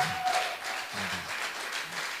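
A church congregation applauding steadily at moderate volume, the clapping blending into a dense patter, with a faint voice murmuring underneath.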